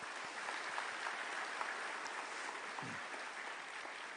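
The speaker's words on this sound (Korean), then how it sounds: "다시 한번 하나님께 영광의 박수 올려드리겠습니다." A church congregation at a large Shincheonji worship gathering gives sustained applause, a dense, even wash of clapping heard at a distance with no talking.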